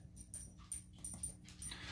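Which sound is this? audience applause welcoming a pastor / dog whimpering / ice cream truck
dog whimpering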